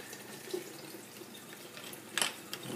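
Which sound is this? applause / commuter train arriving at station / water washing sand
water washing sand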